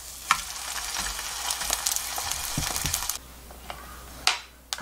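Steady sizzling of toast frying in a pan, with a few sharp clicks and scrapes, quieting partway through before a final clatter.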